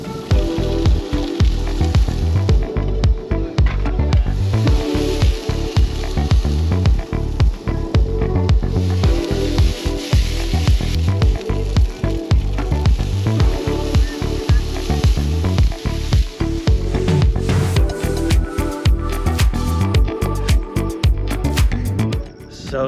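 Zucchini, broccoli and carrots sizzle steadily in a pan at an Arizona campsite near Roosevelt Lake, a loud, continuous frying crackle with scattered pops and stirring clicks running throughout without talk.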